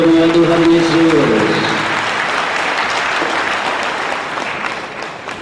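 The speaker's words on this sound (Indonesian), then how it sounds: "Sekali lagi tepuk tangan yang paling meriah buat Tuhan Yesus." Loud, sustained applause from a congregation during an evening church worship service, with a brief sung or voiced tone at the start before steady clapping fills the rest.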